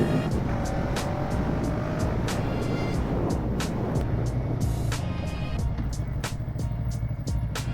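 A motorcycle engine hums continuously while riding on country roads, a loud, close drone mixed with rushing wind and scattered sharp clicks.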